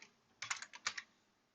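Brief burst of typing on a computer keyboard, a quick cluster of about eight crisp key clicks, close and fairly quiet, with no voices.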